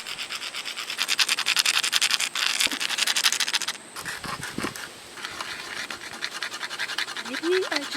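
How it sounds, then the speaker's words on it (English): A peach pit scraped back and forth on a sidewalk or asphalt gives close, rhythmic rasping strokes in bursts, with a short pause in the middle and a brief voice near the end. "scraping the peach pit on the sidewalk or an asphalt back and forth on each"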